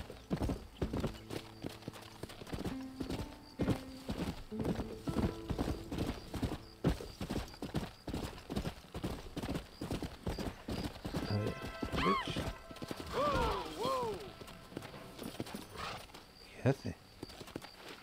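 Horse hooves clip-clop steadily at a walk in the Western video game Red Dead Redemption, close and rhythmic, with neighs and whinnies and a voice speaking over them.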